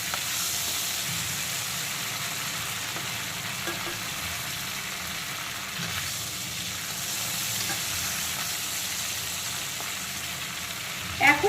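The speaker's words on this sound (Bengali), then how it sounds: "এখন কিন্তু আলু আর চিংড়ি দুটোই কিন্তু ভাজা হয়ে গেছে" Quiet, steady sizzle of potatoes and prawns frying in hot oil in a pan, with occasional stirring clicks and a few louder crackles near the end; no talking.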